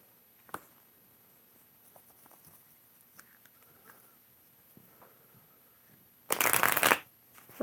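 A deck of tarot cards is riffled in one quick, close shuffle after near silence broken by small taps.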